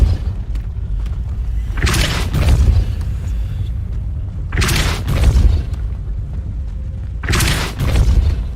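The Depulso spell is cast in Hogwarts Legacy, giving three loud, booming blasts spaced a few seconds apart. Each has a sharp burst and a short rumbling tail, with quieter game ambience between them.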